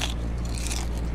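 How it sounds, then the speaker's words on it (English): Crunchy bite of pizza in a horror video game, a short dense crunching burst with no voices. "crunchy pizza"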